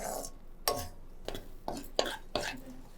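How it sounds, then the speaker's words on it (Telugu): Sweet prasadam being stirred in a pan until it browns, a spoon scraping and clinking against the pan in about five distinct strokes, close and fairly quiet. "ఇది కలర్ చేంజ్ అయ్యేంత వరకు మనం కలుపుతూ ఉండాలి."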